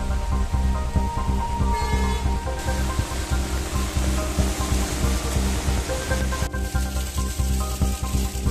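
Heavy rain pours down and floods city roads in Patiala and Bathinda, a dense, steady rush of falling and flowing water that stays loud and unbroken throughout, with no voices.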